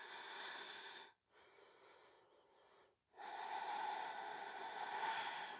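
Slow, steady breaths during an energetic yoga flow, each long airy inhale or exhale filling the space, with two brief pauses between them and no talking.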